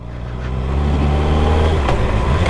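A Kawasaki 636 motorcycle engine starts and revs close by, a loud steady growl that climbs after the first second and holds strong to the end, with no voices.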